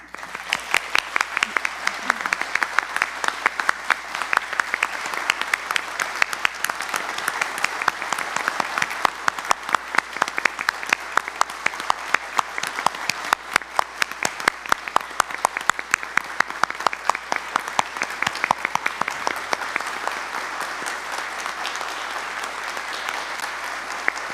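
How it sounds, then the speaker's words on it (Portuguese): A solemn session of the São Paulo state legislature honouring a colonel breaks into sustained applause. Many hands clap in a dense, continuous wash across a large hall, steady for over twenty seconds before easing slightly near the end. "que as palmas sejam, que venham do fundo do nosso coração"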